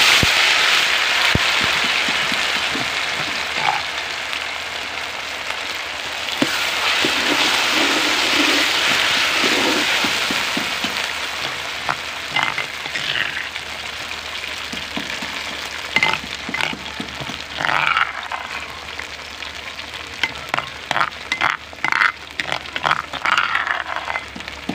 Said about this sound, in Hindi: तेल साड़ा गर्म हो गया, असी डालेंगे आलू